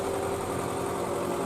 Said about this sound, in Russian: И пришлось опять нанимать трактор частника.